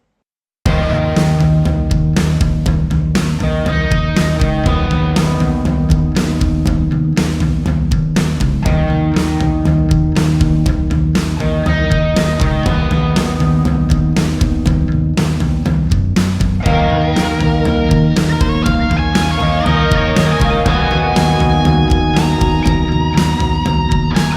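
Clean electric guitar with bass, both through a Marty Friedman Signature Sansamp pedal in a studio mix, playing a dense continuous part with rhythmic strummed accents, loud and steady throughout without any voice.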